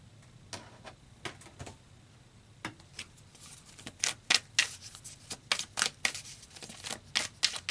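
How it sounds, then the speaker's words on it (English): Tarot cards are handled close up: soft slides and shuffles, then a run of sharp riffling flicks and snaps that grow louder and quicker toward the end, with no talking. "So let's pull some more cards."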